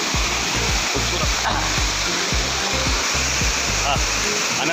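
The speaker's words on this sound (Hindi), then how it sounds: "ये वाटरफॉल जो है बहुत बढ़िया, रियल गुड, बहुत अच्छा।" Waterfall at Honhed near Keshkal, a steady loud rush of falling water filling the whole clip, with a rhythmic low thumping underneath and someone speaking over it.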